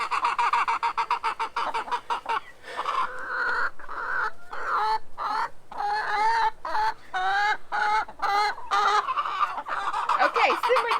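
Chickens cluck and squawk continuously in a garden chicken run, loud and close, with rapid rhythmic bursts and drawn-out calls layered over one another.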